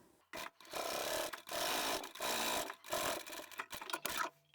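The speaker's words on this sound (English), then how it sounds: "place those 2 layers together, and I can stitch that in place" A sewing machine stitches two layers of scrap fabric together for a zippered tablet pouch, running in several loud close bursts of rapid whirring separated by short pauses, with no talking.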